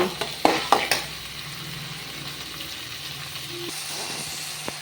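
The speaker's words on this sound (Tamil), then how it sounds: "இந்த தக்காளியுமே வந்து நல்லா வதங்கணும்" Chopped tomatoes sizzle and fry in hot oil for a fish curry, a steady crackling hiss with a few sharp utensil clanks against the pan early on.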